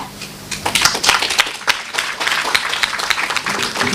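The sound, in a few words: audience applause at conference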